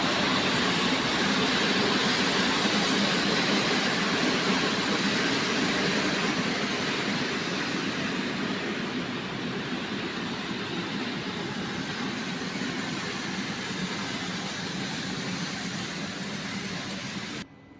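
Intercity Wigry passenger train from Szczecin Główny to Mockava at a station: a continuous, loud rumble of rolling wheels and engine noise that stays steady for the whole stretch, then cuts off at the end.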